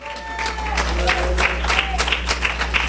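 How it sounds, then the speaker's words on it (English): Congregation clapping during a church service, a steady wash of applause under a low hum, with voices mixed in throughout. "Let's just clap one more time unto God."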